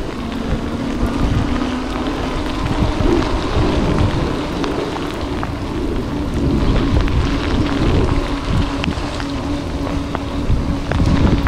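Rain falls during an e-bike ride, a dense, steady hiss mixed with heavy wind buffeting and low rumbling road noise throughout.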